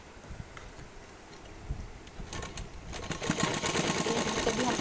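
A sewing machine stitches the hem of a kurti, starting quietly and then building into a fast, steady whirring chatter that grows louder toward the end.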